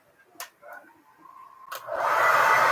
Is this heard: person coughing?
no